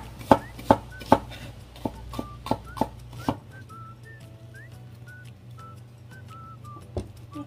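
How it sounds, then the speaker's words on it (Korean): Onion being chopped with a knife on a cutting board, a run of sharp, close knocks in quick rhythm, pausing and resuming once, with faint whistling in the background. "양파 좀 썰어주세요."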